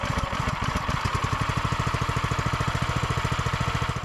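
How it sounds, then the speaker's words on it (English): A Predator 212cc horizontal-shaft engine fitted to an old garden tiller runs steadily up close, a loud, even rapid thumping of the small single-cylinder motor throughout. "This time, the engine ran properly without an issue."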